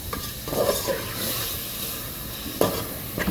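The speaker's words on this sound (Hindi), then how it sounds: "इसको भूनेंगे थोड़ा सा, 2 से 5 मिनट तक भूनेंगे इसको" Minced meat keema with spices and tomato sautéing in a pan: a steady sizzle with a spoon stirring and scraping throughout, and one louder knock against the pan near the end.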